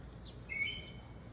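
Wild birds chirp outdoors on a quiet morning after rain, a few faint, high, brief calls over a low background rumble.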